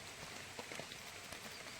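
Faint, steady rain patters in a green forest during the monsoon, a soft hiss scattered with light drops and no voices.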